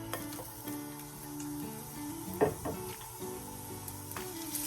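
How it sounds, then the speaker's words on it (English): Shallots sauté in a pan for stuffed chicken breast with a soft, continuous sizzle. A sharp scrape or stir lands near the middle, and faint tonal background hum sits underneath. "To that, we're going to add our shallots."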